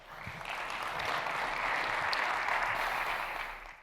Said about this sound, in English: I did not expect applause there.